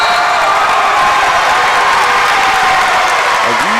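A packed crowd at a high school basketball game roars loudly and continuously, a dense wash of cheering and applause filling the whole stretch without letup.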